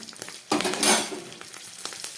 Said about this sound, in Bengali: ফোড়নটা খুব ভালো ভাজা হয়ে যাচ্ছে